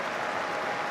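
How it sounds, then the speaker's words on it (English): Stadium crowd applause at a rugby league match between Hull and Wigan, a broad, steady roar of distant clapping heard alone. "the applause goes around"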